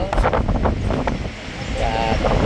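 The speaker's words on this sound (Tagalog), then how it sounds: "Lakas ng hangin." Strong wind buffets the microphone with a heavy, continuous low roar at Perpignan airport, France, while a voice speaks briefly over it in Filipino.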